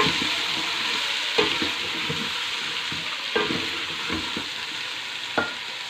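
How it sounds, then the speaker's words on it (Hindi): Half a kilo of onions frying in a pan, a steady bright sizzle with occasional louder clatters of stirring as a spoon scrapes and turns them, no voices. "प्याज हमने आधा किलो डाले हैं, आप चाहें तो इसमें थोड़ा कम भी डाल सकते हैं। अब इसको अच्छे से हम फ्राई कर लेंगे।"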